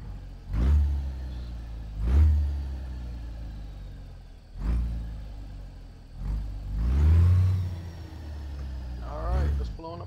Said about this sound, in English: Let's fire this puppy up. Oh, it's powered by 550 horse Detroit engine with a 13-speed transmission.